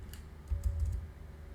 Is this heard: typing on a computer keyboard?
yes